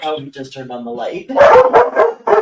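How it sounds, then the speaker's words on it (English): Several dogs bark and yip indoors, loud and close, in bursts that overlap a person talking. "Sorry about the dogs."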